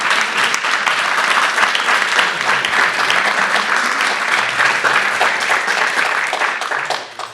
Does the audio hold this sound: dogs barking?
no